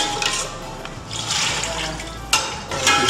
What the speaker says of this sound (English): So now I can pour in the biscuit bone stock.